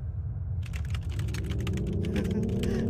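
Rapid typing on a computer keyboard in the SMG4 movie, a dense burst of quick clicks starting abruptly over a low rumbling background.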